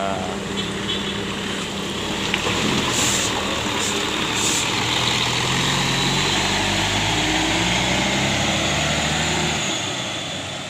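Heavy bus engine idling and rumbling at a terminal entrance, loud and close with a steady low drone, a brief hiss like an air brake early on, and the sound easing off at the end.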